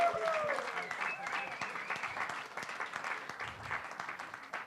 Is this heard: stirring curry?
no